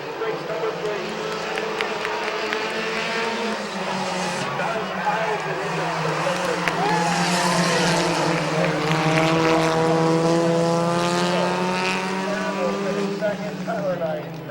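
Race cars at Midvale Speedway roar past in a close three-way battle, their engines rising and falling as they go through the turns, under a track announcer's continuous commentary.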